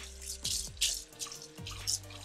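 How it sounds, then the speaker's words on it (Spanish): Cold water poured from a tap over lentils in a colander, a soft splashing and trickling with a few distinct drops and spurts, fairly quiet and close, with no voices. "2 veces al día, mañana y noche, le vamos a echar agua fría."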